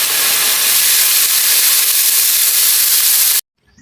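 Pork and liver sautéing in hot oil for menudo, a loud, dense, continuous close-up sizzle that runs steadily and then cuts off abruptly.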